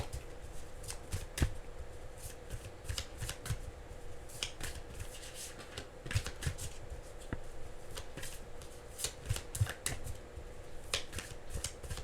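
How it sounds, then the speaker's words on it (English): Tarot cards being shuffled by hand, a faint, close run of crisp riffling snaps and soft slaps repeating irregularly throughout, with no talking. "Let me shuffle."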